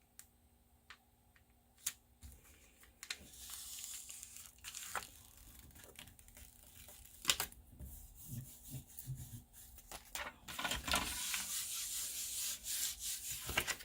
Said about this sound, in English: Give that a good little rub